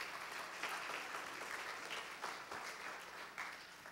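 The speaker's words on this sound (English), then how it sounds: "Let's give them a round of applause." A church congregation claps in steady applause at a Sunday service, a dense even patter of many hands that stays fairly quiet and distant throughout.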